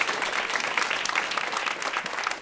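Live radio show audience applauding in a theater, a steady, dense patter of many hands clapping throughout at even loudness with no pause.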